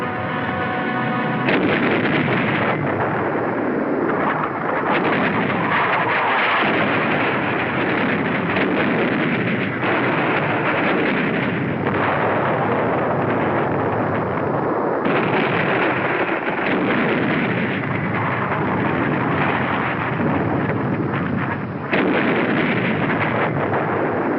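Naval bombardment of Iwo Jima in wartime, a dense, continuous roar of artillery shelling with overlapping blasts and rumbling explosions, loud and saturated throughout, with no voices.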